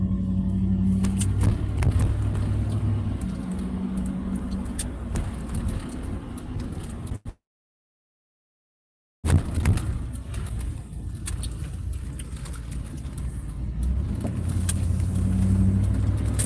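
Cars drive past on a town street in Nový Bor with resident-only parking, a continuous nearby rumble of engines and tyres broken by a brief silent gap midway.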